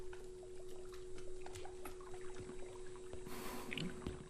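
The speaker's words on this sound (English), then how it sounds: "That's running water." Running water in Liminalcore makes a continuous low trickle and pour under a steady hum, with scattered faint clicks and a brief brighter splash near the end.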